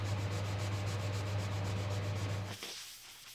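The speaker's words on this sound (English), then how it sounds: "I tried to remove those by hand, sanding just over the resin parts" Resin parts of a wooden desk are hand sanded with 180 grit sandpaper, giving quiet, rapid back-and-forth rubbing strokes in a steady rhythm under a low steady hum, which stops abruptly near the end.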